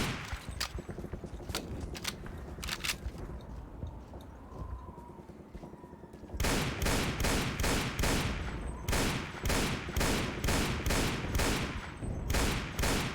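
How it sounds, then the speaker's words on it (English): Gunfire in a Source engine multiplayer shooter, scattered distant shots and footsteps at first, then a loud, regular burst of rapid close gunshots repeating steadily to the end. "but I can still shoot him from here"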